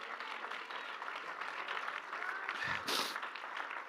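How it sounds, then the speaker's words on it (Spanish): Applause from a church congregation during a Spanish-language sermon, a steady, moderately distant wash of clapping that holds for several seconds. "Alguien dele un fuerte aplauso a nuestro Dios."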